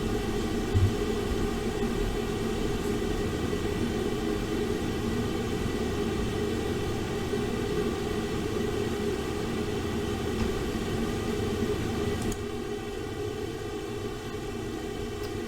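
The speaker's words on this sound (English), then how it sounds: "I'm right next to the washer and dryer, and I guess my housemate has decided to start doing laundry." A washer and dryer run right beside the listener in a home, making a steady, unbroken mechanical drone and whoosh that holds throughout and drops slightly in level near the end.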